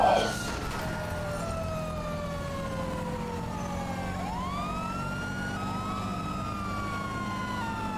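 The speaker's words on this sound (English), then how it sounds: "those are some new sirens I hear" A wailing police siren in the video game Grand Theft Auto V Online sweeps up and down in pitch over a low engine rumble, loud and continuous throughout.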